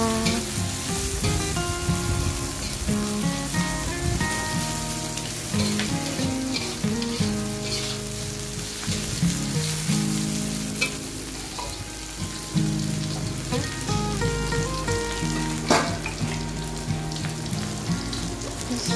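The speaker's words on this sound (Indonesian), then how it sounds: "Tumis terus sampai dia layu semuanya. Daun bawang sama tomatnya layu ya." Scallions and tomato stir-fry in a pan while cooking sweet and sour gourami, with a steady close sizzle and occasional stirring scrapes under a tonal background of music, no talking.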